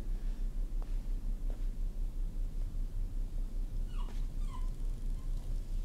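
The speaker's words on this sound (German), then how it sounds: "mein Hund, sitzt vor der Tür und heult" A dog sits outside a door howling and whimpering, with thin high whines coming through a steady low rhythmic hum, faint and muffled.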